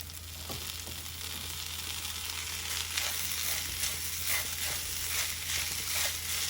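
Vermicelli upma with vegetables, turmeric and salt fries in a pan, a soft, steady sizzle close by with occasional stirring scrapes and light clicks.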